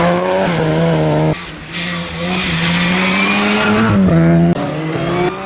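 A Cooper S touring car races at the 1968 Australian Touring Car Championship, engine howling loud and close with gear changes and tire squeal as it drives hard.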